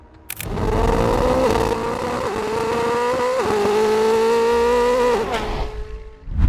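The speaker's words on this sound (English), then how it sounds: "V8 engine that is said to be included in Koenigsegg's upcoming General Supercar" A Koenigsegg V8 supercar engine of up to 2,000 horsepower revs loudly and steadily for several seconds, its pitch climbing in stepped surges before dropping off near the end.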